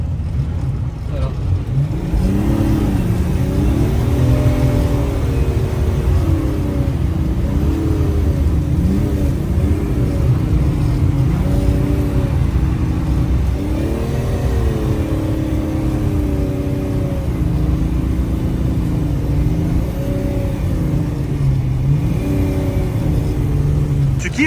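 A BMW E36 TDS engine revs repeatedly over a constant low rumble during a line-lock burnout on snow. Its pitch swells and falls in waves, loud and close throughout.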